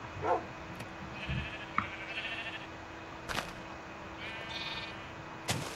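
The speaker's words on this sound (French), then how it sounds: "Toi, tu es un mouton noir" A black sheep in a Minecraft-style video game bleats a few times, short nasal calls spaced apart over faint background noise, with occasional sharp clicks between them and no talking.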